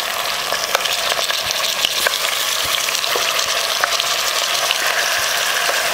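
Chicken with onions frying in hot oil for a kulambu, a loud, dense, continuous sizzle with scattered crackles and light stirring clicks, close and steady throughout with no talk.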